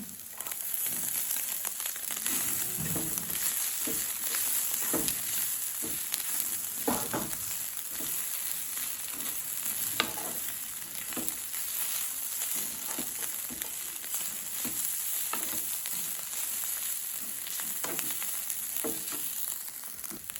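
Chopped egg kottu frying in a pan, a steady close sizzle with rustling stirs and scrapes repeating throughout, no voices.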